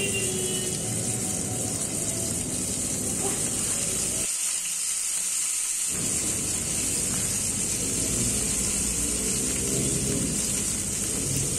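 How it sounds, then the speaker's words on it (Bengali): Chicken tikka skewers (shashlik) frying in lightly heated oil in a pan, giving a dense, continuous sizzle with a brief quieter break partway through. "তেল হালকা গরম হয়ে এলে এর মধ্যে একে একে সবগুলো শাসলিক দিয়ে দেব।"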